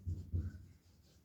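Pen writing a date on paper in a letter-writing lesson, two short scratchy strokes close up followed by a faint trailing rub, quiet and alone.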